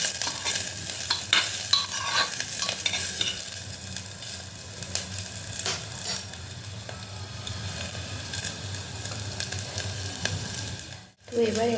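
Whole garlic cloves fry in oil in a pan with a steady, close sizzle and frequent sharp crackles, briefly cut off near the end before the sizzling resumes, with no talking.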